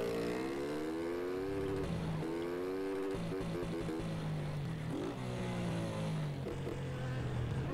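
Motorcycle engine in GTA, a steady revving drone with rising and falling pitch changes and gear shifts, loud and continuous throughout.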